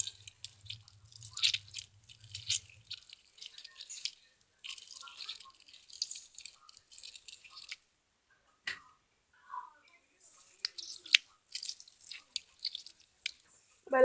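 A lime squeezed by hand over a zucchini salad seasoned with pepper, salt and lime zest gives close, wet squelches and scattered drips in uneven bursts, with short quiet gaps between.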